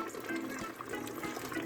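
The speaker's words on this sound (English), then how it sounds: "Add a little bit more water." Water pours steadily into a pot of cooking rice on a stovetop, a continuous close gurgling and trickling fill with no talk over it.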